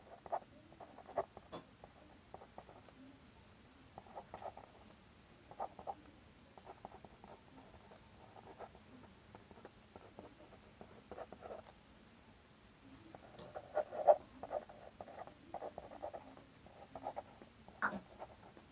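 Chalk or marker scratches and taps on a board during a physics lesson, with short faint strokes in irregular clusters and quiet gaps between them.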